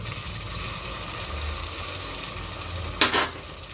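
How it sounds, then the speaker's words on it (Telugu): Coriander, ginger and garlic paste frying in oil on a low flame for a paneer curry, a steady soft sizzle with one brief stirring scrape near the end. "ఇది కూడా సిమ్లో మంచిగా నూనె సపరేట్ అయ్యే వరకు మంచిగా వేగనిద్దాము"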